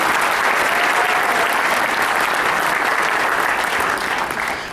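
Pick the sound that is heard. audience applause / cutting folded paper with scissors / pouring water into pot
audience applause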